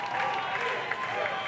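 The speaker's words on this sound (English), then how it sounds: "Can hear the crowd electric, willing on Party Guy Ty here." A wrestling crowd at a live show cheers and applauds in a dense, continuous roar of clapping and shouting, with a commentator's voice heard over it.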